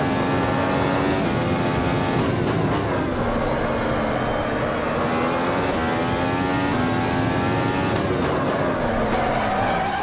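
F1 car engine from the 2019 Automobilista racing game, held in 5th gear at Circuit of the Americas in Austin, a loud continuous high-revving whine with shifting harmonic pitch sweeps throughout, no talking.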